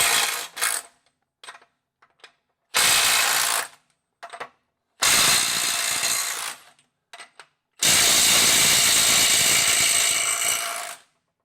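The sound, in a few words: Milwaukee M12 FUEL Gen 2 stubby impact wrench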